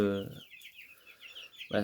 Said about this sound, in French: dans le chalet de jardin, on a les derniers poussins